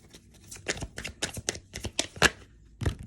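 A deck of tarot cards is shuffled close up, giving a quick series of crisp riffles and slaps with no talking.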